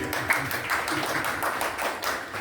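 Concert audience applauding a 12-year-old boy before his Carnatic singing debut, a brief burst of dense, even hand claps from a modest crowd, close and steady.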